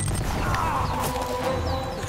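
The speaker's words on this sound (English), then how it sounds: "Can't hit me with your bombs." Bombs exploding in the Uncharted video game, a dense low rumble with scattered crashing impacts running steadily through the short stretch, no talk over it.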